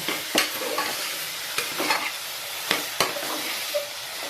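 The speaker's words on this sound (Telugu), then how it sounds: "తర్వాత ఇంత కట్ చేసుకున్న దొండకాయలు వేసుకొని బాగా కలుపుకోవాలండి." Chopped ivy gourd stirred in a frying pan for dondakaya curry, a steady hiss of sizzling oil broken by several sharp spatula scrapes and clinks against the pan, close and fairly loud.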